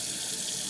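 Warm water runs steadily from a tap into a sink while prepping a tumbler, a continuous close hiss and splash with no talk over it.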